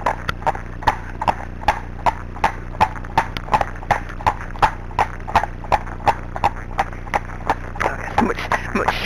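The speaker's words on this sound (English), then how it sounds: "Okay, much steadier trot now." A horse trots at a steady, even pace, with clear, close, regular hoofbeats running through the whole stretch over a low background hum.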